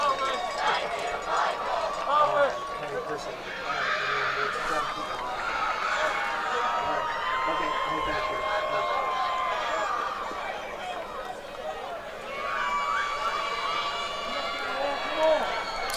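A crowd at a high school football game between Meadowbrook and West Muskingum chants steadily in a far, rolling drone, with cheering and crowd noise running throughout.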